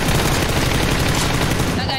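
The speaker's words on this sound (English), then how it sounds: "every single player in the map is just, like, shooting guns" Dense, continuous gunfire fills the scene as many players shoot at once in the battle-royale game PUBG. Rapid overlapping shots and bursts come loud and close throughout, with voices talking over them.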